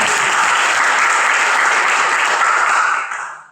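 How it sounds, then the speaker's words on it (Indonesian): Audience applause fills the opening of a Rohis Indonesia branch conference in Semarang, a dense, loud wash of clapping that holds steady for about three seconds before trailing off quickly. "Oke, tepuk tangan untuk kita semua."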